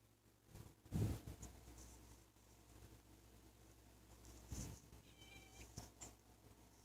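A house cat meows a couple of times close by, with a louder call near the start and another a few seconds later, over quiet indoor room noise and light handling sounds.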